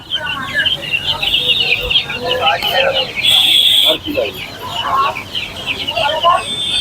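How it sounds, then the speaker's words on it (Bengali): Native desi chickens at an outdoor village market in Bengal give steady clucks and a few sharp squawks close by, mixed with background voices and crowd noise. "এগুলো সব দিশি মুরগি হ্যাঁ।"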